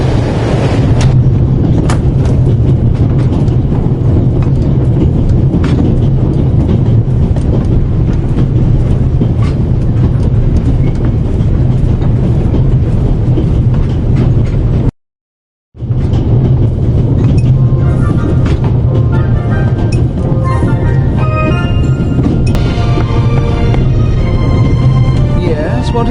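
A moving passenger train in a first-person game, heard from inside the carriage: a continuous loud rolling roar with a faint clickety-clack, interrupted by one short silent gap midway before carrying on.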